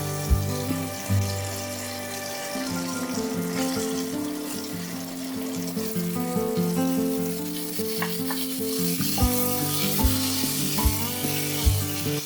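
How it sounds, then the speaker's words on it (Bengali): Pointed gourds, rubbed with salt and turmeric, fry in a little oil in a wok with a steady close sizzle, punctuated by periodic metallic scrapes and knocks of a spatula stirring. "কড়াইতে সামান্য তেল দিয়ে পটলগুলোকে প্রথমে হালকা করে ভেজে নেব।"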